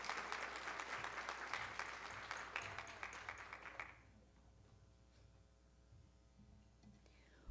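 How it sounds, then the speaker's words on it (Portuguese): Audience applause fills a women's entrepreneurship day ceremony, a dense steady clatter of many hands for about four seconds before dying away into a quiet room with faint murmuring. "uma salva de palmas para vocês"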